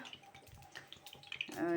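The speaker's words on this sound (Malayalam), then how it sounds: "എണ്ണ ഒഴിച്ചിട്ടിട്ടുണ്ട്" Cooking oil poured into a frying pan for making jackfruit chips gives a short, wet pouring sound that swells near the end, with faint voices and kitchen noise around it.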